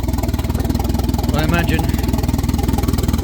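A 1992 Volvo 460 turbo engine idles unevenly at the wrong rate, a close, steady pulsing throb with rhythmic beats, while a voice speaks briefly over it.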